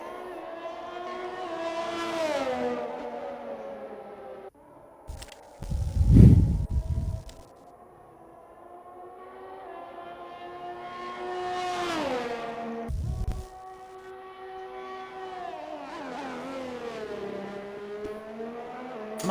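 Race car engines in an Xbox racing game at the Singapore circuit scream at high pitch, rising and falling through gear changes as cars pass, broken by a few brief low thumps.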